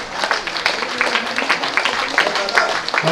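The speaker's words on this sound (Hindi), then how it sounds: "बहुत सुंदर बजती रहनी चाहिए ये आपके जो सुंदर का वो ताली बजाते रहिए" An audience at a free eye surgery camp event at Vatsalya Gram, Vrindavan, claps steadily in a dense, close ripple of hand claps that lasts throughout, with a voice speaking over it.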